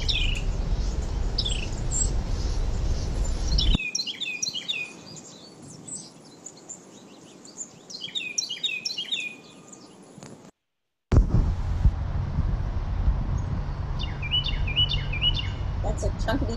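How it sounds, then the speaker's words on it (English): An American robin sings repeated clusters of warbled, liquid phrases in several bursts, set against patches of low rumbling background noise that cut in and out. "this bird, the American robin, is easily recognizable"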